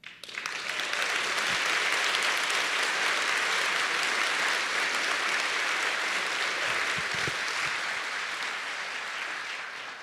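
A large audience applauds steadily through the whole stretch, a dense, even wash of clapping at a speech event with no voices over it.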